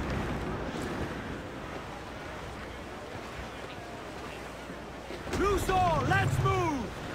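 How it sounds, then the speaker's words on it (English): Gusty wind and rough, choppy seas in a pirate sailing video game, a steady broad rush throughout, with a brief burst of wavering tonal sound and a low rumble swelling near the end. "Quite the squall picking up, Captain. Dark skies and rough seas there."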